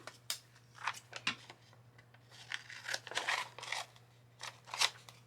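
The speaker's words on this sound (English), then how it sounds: "I will cut this excess part." Scissors snipping through excess card paper during card making, a string of quiet, close, crisp cuts at an irregular pace with a low steady hum behind them.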